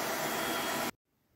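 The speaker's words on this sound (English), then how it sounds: "bringing in the hairdryer just to dry this layer" A hair dryer blows loud and steady close by, drying a layer of paint on a squishy toy, then cuts off abruptly, leaving near silence.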